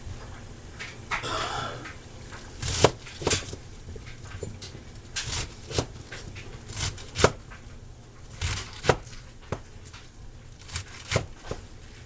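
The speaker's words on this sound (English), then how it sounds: "now bring back our bok choy and just slice it up yay wide" A knife slices through bok choy on a cutting board in a home kitchen, a sharp, crisp chop repeating at an uneven rhythm over about a dozen seconds, close and fairly loud with no voices.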